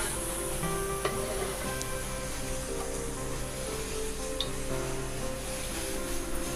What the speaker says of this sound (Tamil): இப்போ கடாய் காஞ்சிருச்சுங்க, நம்ம சட்னி தாளிச்சு எடுத்துக்கலாம்.